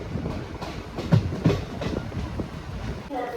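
A train stands at platform 4 of Kayamkulam station, with rhythmic wheel clatter and rumbling close by and some faint voices mixed in.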